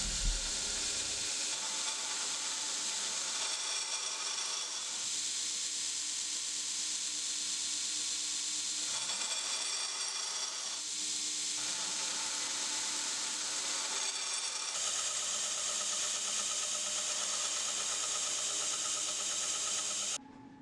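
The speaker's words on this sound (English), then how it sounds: "Once I've ground to my center lines, then I can proceed to go ahead and just grind out the bevels." A knife blade has its bevels ground toward the centre lines on a grinder, a loud continuous abrasive hiss that pauses briefly now and then before resuming.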